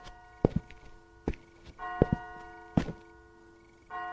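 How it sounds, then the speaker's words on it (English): A distant clock tower strikes the hour with spaced, resonant tolling peals, each sharp strike followed by a ringing hum, sounding about four times in steady rhythm. "he heard a clock, somewhere in the distance, begin to strike the hour"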